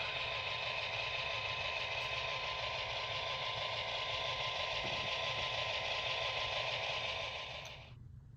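A steady mechanical engine drone from a model locomotive, with a high whine and low rumble, constant and close, cutting off abruptly near the end.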